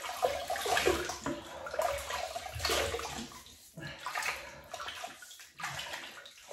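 Water splashes and sloshes in repeated bursts as shaving soap is rinsed off the face after a straight-razor shave, close and fairly loud with short pauses between handfuls.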